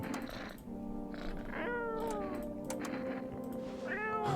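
Several meows from a cat being petted in the video game No, I'm Not a Human, rising and falling over a steady low background hum, close and clear with no talking.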